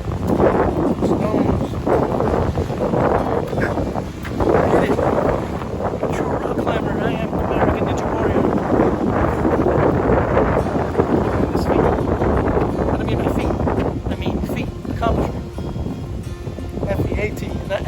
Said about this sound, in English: I don't know if you guys can hear me with all this wind